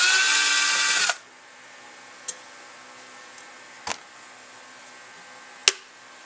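A power drill spins briefly to back a screw out of a Buick car AC part, a loud close whir for about a second, then quiet with a few sharp taps and clicks of the part being handled.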